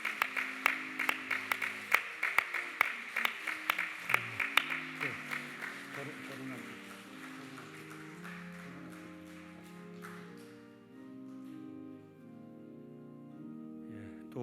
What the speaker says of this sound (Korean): 끝까지 큰 박수로